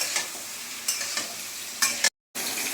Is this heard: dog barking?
no